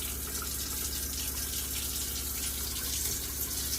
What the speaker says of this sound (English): and then we can put our tap on